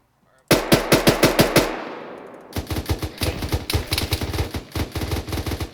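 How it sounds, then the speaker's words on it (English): Automatic gunfire rattles in the ArmA 3 military shooter, with a loud close burst followed by a decaying echo, then a longer, slightly quieter string of rapid shots. "There is shots coming from our northwest, I believe, over towards the warehouse building."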